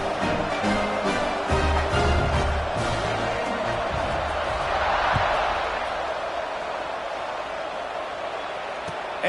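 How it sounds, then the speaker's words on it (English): Stadium crowd in a college football video game hums in a steady, dense roar after a touchdown, with a commentator talking over it throughout. "this crowd is buzzing after that last score"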